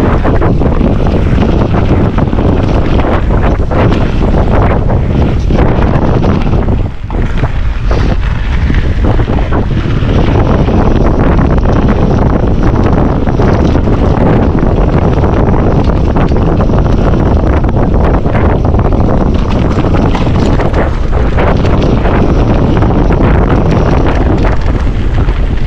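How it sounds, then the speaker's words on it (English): Strong, continuous wind buffeting the microphone during a mountain bike ride at Antur Stiniog, a loud roaring rush that fills the whole stretch with only slight dips in force. "Windy man."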